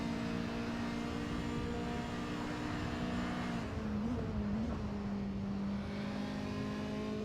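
A race car engine drones steadily from the cockpit at Road America, with a sustained whining tone that dips and settles as the driver short shifts, under constant wind and road noise.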